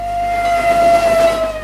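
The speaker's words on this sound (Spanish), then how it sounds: "Cada vez que suena el silbato de un tren de vapor, llena el aire por completo" Steam locomotive whistle sounding one long, loud sustained blast with airy steam hiss beneath, close and dominant, no voices.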